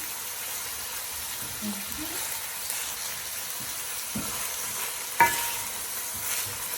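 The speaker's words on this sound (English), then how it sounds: "Fry the onions for a bit." Onions frying in a pan for a lamb and channa daal dish make a faint, steady sizzle, with a few soft stirring scrapes and clinks from the cookware.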